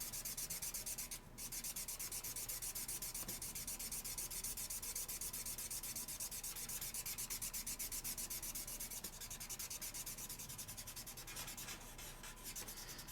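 Chalk rubbed and blended on paper gives a continuous close, dry scratchy rubbing, steady for the whole stretch with only brief pauses.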